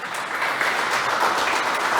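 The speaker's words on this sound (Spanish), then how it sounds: "Denle un aplauso a Jesús por eso." A church congregation claps together in steady, dense applause that holds close and loud throughout, with no voices rising above it.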